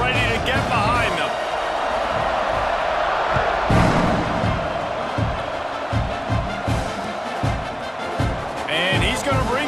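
A college football stadium crowd before kickoff at Arizona State vs Oklahoma, a loud, dense roar of cheering that swells and surges, with a commentator talking over it.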